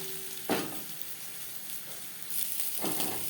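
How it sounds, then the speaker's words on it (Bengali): Spiny gourd pieces lightly frying in oil, a soft steady sizzle with a couple of brief louder stirring scrapes. "কাঁকরোল হালকা করে ভেজে নেব"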